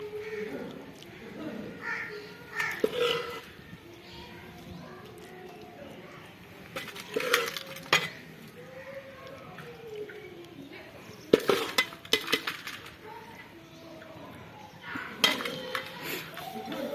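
Aloo anda curry being served from the pot into a dish, with scattered metallic clinks and scrapes of a spoon against cookware, some louder knocks, and birds calling faintly in the background under occasional talk.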